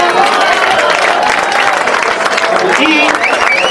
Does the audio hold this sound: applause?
yes